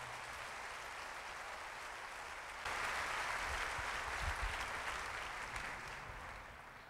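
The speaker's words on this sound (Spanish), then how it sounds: "Dale un aplauso a Jesús por eso," A church congregation applauds, a faint, distant wash of steady clapping that swells noticeably partway through and carries on to the end.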